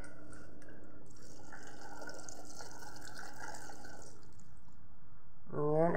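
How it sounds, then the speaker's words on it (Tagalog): Water is poured into a cooking pot holding fish paksiw with vinegar and a little oil, a steady trickling pour lasting several seconds before a brief clatter at the end. "Konting tubig."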